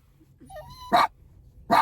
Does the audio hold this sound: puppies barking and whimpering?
yes